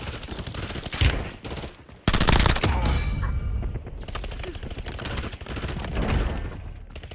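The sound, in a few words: gunfire in the video game Warzone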